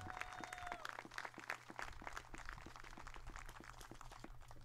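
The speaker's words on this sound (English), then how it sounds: "please give one final GSW round of applause for number 6, Dakota Long" Faint crowd applause at a college baseball game for a senior player, scattered clapping heard from a distance over a low steady hum.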